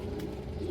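A racing pigeon coos softly in a loft, a brief low murmuring call heard faintly and close amid quiet background noise.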